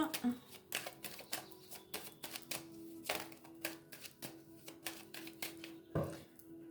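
A deck of playing cards being cut during a tarot reading: a run of quick, crisp card snaps and taps, close and fairly soft, with brief pauses between, plus a low thump near the end.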